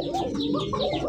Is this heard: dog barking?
no